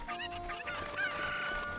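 Cucco chicken clucking and crowing in The Legend of Zelda: Ocarina of Time, a short run of game-style fowl calls layered over background game music, fairly loud and close.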